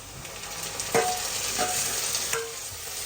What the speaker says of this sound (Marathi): कांदा आपला फ्राय होतो तर आता याच्यामध्ये मी टोमॅटो टाकते